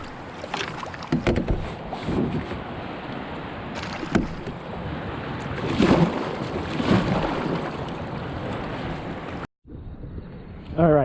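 A canoe paddles through river current, with repeated splashing paddle strokes and rushing water mixed with wind buffeting the microphone, ending in a brief dropout and rustle.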